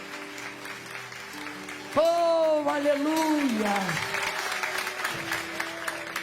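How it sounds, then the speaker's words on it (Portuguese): A church congregation at a women's conference applauds, a continuous crowd clapping bed under which a preacher's voice rises in a drawn-out exclamation. "Pode aplaudir o nome do Senhor Jesus."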